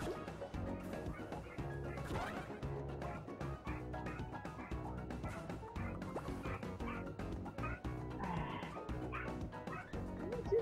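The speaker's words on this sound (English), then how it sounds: "Sorry guys, dog's down there." Dog barking in the video game DuckTales: Remastered, with repeated yips and barks sounding among constant game music and clatter, moderately loud and rhythmic throughout.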